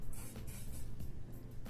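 Cooking spray hisses from an aerosol can into a bowl before honey goes in, a steady close spray with a few brighter pulses and no talking.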